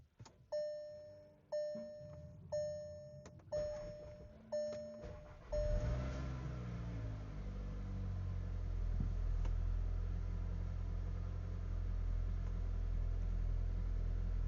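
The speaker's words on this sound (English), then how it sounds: "We'll start the car." A series of electronic chimes sounds, then a Volkswagen Mk7.5 GTI engine cranks and catches, settling into a steady low idle rumble.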